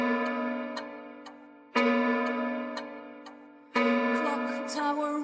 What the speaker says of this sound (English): I used a grandfather clock sound